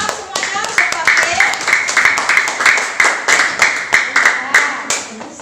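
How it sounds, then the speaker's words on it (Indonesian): A classroom of students during an Islamic religious education lesson claps their hands in a loud, rhythmic burst of distinct, closely spaced claps, with voices talking over them. "Tepuk tangan semuanya"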